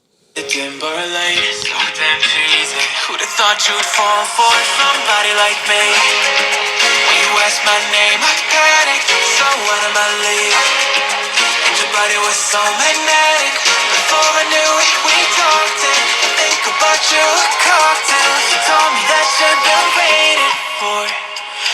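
Loud, dense music plays continuously from the small stereo speakers of a vivo X80 Pro phone, full and bright with little deep bass, running steadily without talk.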